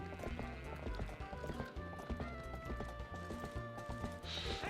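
Hooves clatter in a quick, busy rhythm as goats scamper about in the Zelda: Twilight Princess HD goat-herding minigame, with music playing underneath.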